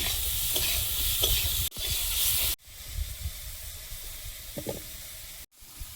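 Ridge gourd frying in hot oil with turmeric, nigella seeds and green chilli, a steady loud sizzle with stirring scrapes, briefly cut twice before settling into a quieter hiss.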